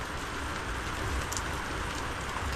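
Steady afternoon rain pattering on a surface under overcast skies, a dense even hiss of drops with no voices, continuous through the whole stretch.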